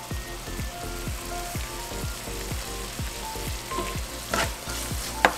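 Pasta sizzles steadily in a hot pan with garlic powder and cayenne pepper as a utensil stirs through it, giving repeated soft scraping strokes in a regular rhythm, close up, with a sharper clink near the end.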